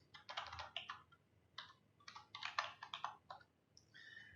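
Quick bursts of keystrokes on a computer keyboard as a file name is typed, close and fairly quiet, with short pauses between clusters of taps.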